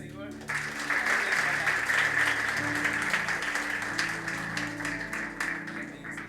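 Congregation applauding in a church service, a dense steady wash of clapping that fills the space loudly from start to finish, with voices and music-like tones mixed underneath.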